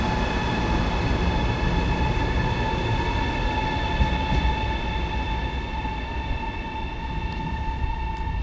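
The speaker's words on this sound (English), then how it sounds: "this train does not start as fast as" A high-speed train on the Changsha to Yiwu line pulls away from a platform, producing a steady loud rumble with sustained tonal whine from motors, continuous and even throughout, no talking.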